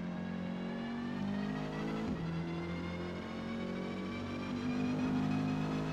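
Renault 8 Gordini racing engine in Forza Motorsport, a small rear-engined car on a D-class qualifying lap at Maple Valley, droning steadily at sustained revs with a slight pitch dip and rise, loud and continuous.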